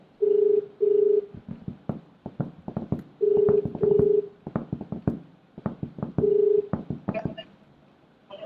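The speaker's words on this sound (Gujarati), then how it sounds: "સિંહુદ સરપંચ ને ફોન લગાવીએ છીએ." Keypad tones on a telephone while a call is placed to a village head, several short steady beeps in pairs separated by brief talk from a nearby voice.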